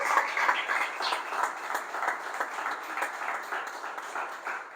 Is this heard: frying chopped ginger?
no